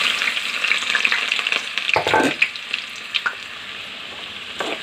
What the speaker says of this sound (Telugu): ఆయిల్ హీట్ ఎక్కిందండి కట్ చేసి పెట్టుకుని ఉల్లిపాయ ముక్కలు వేద్దాం